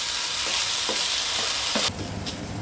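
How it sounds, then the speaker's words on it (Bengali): Potatoes fry crisp in a little oil in a pan, a loud continuous sizzle with a few soft stirring scrapes, the hiss dropping slightly near the end. "ওদিকে আলুটা ভাজা হচ্ছে, দেখো লাল করে ভাজা হবে"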